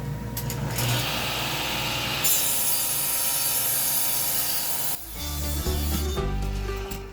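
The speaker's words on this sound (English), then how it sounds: "my pulley on my table saw is really rattling pretty bad" A table saw with a badly rattling pulley runs loudly with a steady mechanical rattle and whine, its tone shifting partway through as the motor changes pitch.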